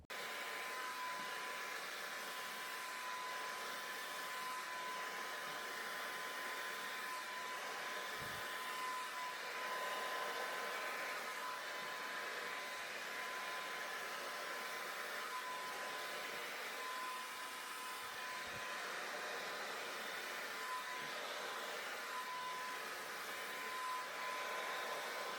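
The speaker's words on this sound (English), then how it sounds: "I just work that blow dryer into my hair" A blow dryer roars steadily while it is worked through hair, a constant airy whoosh with a thin high whine running the whole time, fairly faint and with no voices.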